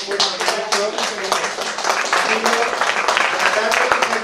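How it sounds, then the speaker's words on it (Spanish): A lecture audience claps at the end of a talk on the Enlightenment woman, a dense, fairly loud patter of hands that runs throughout with voices talking over it. "yo creo que se merecen un aplauso"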